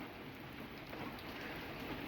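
Steady, even patter of light rain falling near a lit barbecue grill, a soft continuous hiss without pauses.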